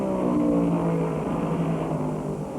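Stock cars racing at Darlington Raceway during the 1978 NASCAR Winston Cup Southern 500, a loud continuous roar of engines at speed filling the whole stretch, steady and close with no voices.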